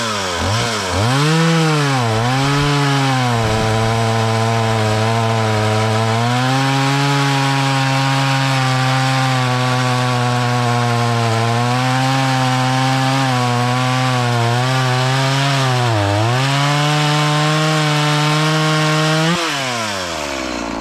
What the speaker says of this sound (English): So that right there was the MS 170. Did you hear how it kind of dogged and how it took a little bit of time to go through?